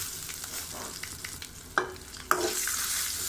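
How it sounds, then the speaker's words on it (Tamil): Crushed garlic, ginger, curry leaves and chillies fry in hot oil for tomato rasam, giving a steady close sizzle with a couple of sharp crackling pops and light stirring, no talking. "இதை கொஞ்சமாக பொரிய விடுங்க."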